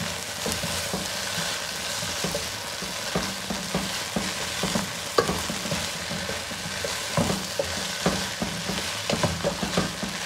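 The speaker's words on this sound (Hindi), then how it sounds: "अब हम इसके अंदर डालेंगे नूडल। और इसको अच्छी तरह मिक्स कर लेंगे।" Chicken noodles being stirred and tossed in a hot pan make a continuous frying sizzle, close and fairly loud, broken by frequent scraping and clacking strokes of the utensil throughout, with no one talking.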